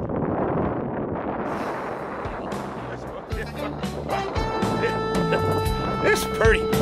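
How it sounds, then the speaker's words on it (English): Wind gusts across flowers on a farm, buffeting the microphone with a heavy rumbling roar that builds toward the end, with muffled vocal sounds mixed in. "The wind is blowing the hell out of them, though."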